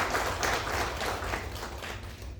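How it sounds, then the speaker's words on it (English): Sustained applause from an audience at a youth event, a dense steady wash of many hands clapping at moderate distance for the whole stretch. "Please give a big round of applause"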